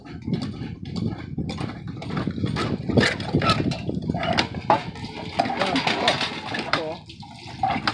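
Water gushes from an old hand pump at a historic well, splashing in uneven surges as the handle works, with people talking over it nearby.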